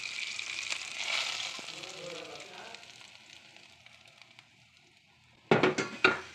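Mustard seeds, ginger and green chillies crackle and sizzle in hot oil, a steady close spluttering that fades gradually, followed by a few sharp loud clatters near the end.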